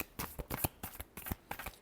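Tarot cards being shuffled by hand, a few quick riffling bursts with short pauses between them, close and fairly soft, no talking.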